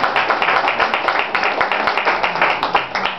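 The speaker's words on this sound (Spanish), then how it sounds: "Un aplauso para ella." Audience applause at a Spanish-speaking gathering, a steady patter of many hands clapping with individual claps standing out, close and fairly loud, with faint voices underneath.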